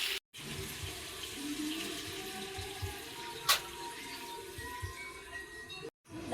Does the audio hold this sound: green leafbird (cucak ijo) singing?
no